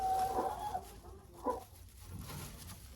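Araucana hens give a few soft, short clucks and murmurs nearby, with quiet gaps between them and a low background hum.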